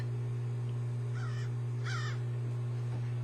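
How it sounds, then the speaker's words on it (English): A black crow caws twice in quick succession, harsh and fairly close, over a steady low electrical hum. "A crow, a black crow against a white sky."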